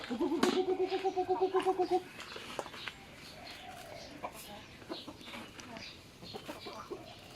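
A hen clucks in a quick run of rhythmic calls near the start, followed by softer scattered clucks and farmyard noise.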